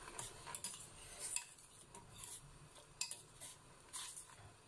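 Gochujang chili is stirred into tteokbokki in a pan: faint irregular scraping and clinking of a utensil against the pan, with light sizzling and no voices.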